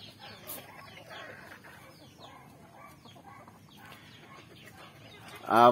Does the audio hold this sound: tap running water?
no